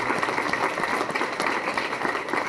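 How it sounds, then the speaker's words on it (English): A crowd applauds outdoors at the grand opening of a health center in Washington, dense continuous clapping with no speech over it. "let's give them a round of applause"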